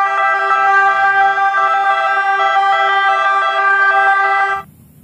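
A toy ambulance siren wails loud and close in a steady electronic tone for several seconds, then cuts off abruptly and leaves only faint low handling noise, with no voices.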